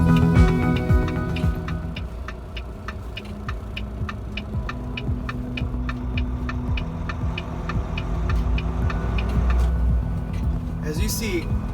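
A truck pulls away and drives, heard from inside the cab as a steady low engine throb, with a regular ticking pulsing over it and the rumble swelling slightly near the end.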